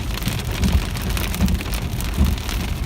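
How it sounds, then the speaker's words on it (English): Small hailstones fall heavily on parked cars and the ground in a parking area, a dense, steady patter with louder thumps standing out, close and continuous with no voices. "It's heavy, but they're small hailstones."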